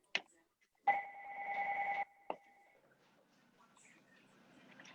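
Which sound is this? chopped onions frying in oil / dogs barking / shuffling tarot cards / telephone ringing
telephone ringing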